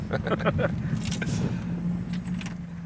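A 1966 Oldsmobile Toronado pulls up, its engine giving a steady low drone with a few light clicks and rattles, while people talk over it close by.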